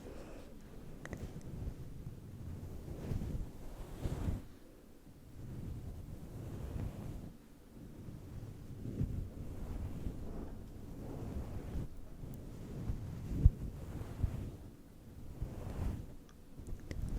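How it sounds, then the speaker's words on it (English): Wind picking up outdoors before a storm, low rumbling gusts that swell and fade in slow waves, buffeting the microphone with occasional thumps and no talking. "I think it is about to storm outside. The wind is picking up."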